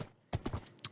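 Horse hooves clip-clop in the Minecraft video game, a brief cluster of three or four close, sharp hoof steps followed by one more after a short pause.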